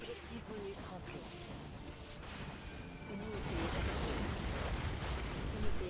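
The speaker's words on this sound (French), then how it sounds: "Et là, pour te défouler, tu vas balancer des bombes là." Bombs fall on an enemy turret in the Command & Conquer Allied campaign, giving a dense, rumbling barrage of artillery-like blasts. The explosions swell toward the end and sit fairly low in the mix.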